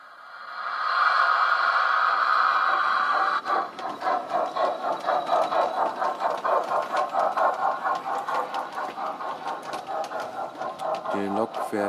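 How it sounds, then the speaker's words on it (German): An LGB model locomotive, the Spreewald, runs on a garden-style railway layout set up in a loft, giving a steady mechanical whir that settles into fast, regular chuffing pulses, moderately loud and close. "And the first loco we will see is the Spreewald."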